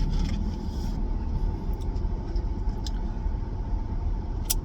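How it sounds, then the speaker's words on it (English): A car idles and pulls away outside, a steady low engine rumble under traffic ambience, with no talk over it. "this car just pulled up and then pulled off."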